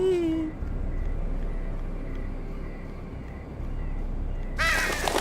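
Crows caw in a Game of Thrones video game, a few harsh calls at the start and a louder burst near the end over a steady ambient hum.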